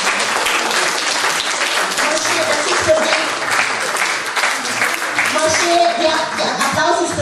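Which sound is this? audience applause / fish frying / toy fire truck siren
audience applause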